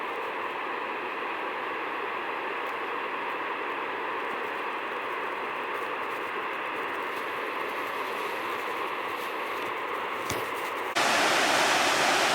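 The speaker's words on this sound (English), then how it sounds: "Well, I came up on this waterfall," A gushing mountain waterfall along a hiking loop, a loud continuous roar of rushing water that stays steady throughout, swelling brighter and louder near the end, with no voices.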